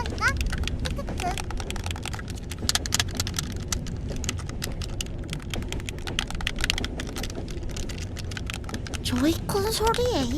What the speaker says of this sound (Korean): 조이콘 소리 ASMR.